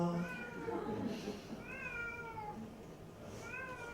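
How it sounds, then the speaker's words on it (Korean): A house cat meows several times, with drawn-out tonal calls repeating at intervals, faint and somewhat distant beneath a low indoor background. "고양이가 그렇다고 지금 대답해요."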